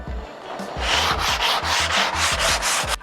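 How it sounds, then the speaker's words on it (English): Wood being sanded by hand in a workshop, a steady back-and-forth rasp repeating in even strokes about every quarter second, close and loud with no voices. "Sanding's my favourite."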